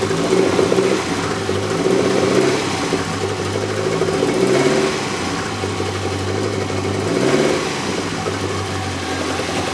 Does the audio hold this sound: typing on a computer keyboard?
no